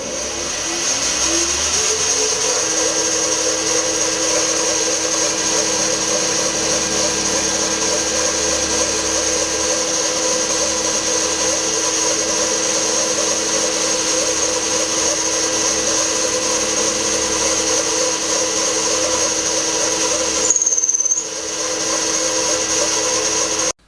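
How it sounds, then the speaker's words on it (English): A milling machine with a 10mm end cutter cuts metal for a cannon frame, giving a loud, steady whine with a tonal drone that holds constant throughout, briefly dipping near the end. "I shall follow it with a 10mm end cutter"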